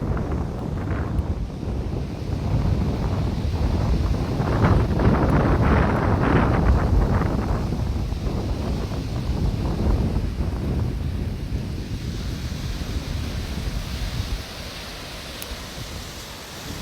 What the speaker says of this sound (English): I will just take you out to hear the sound of the waves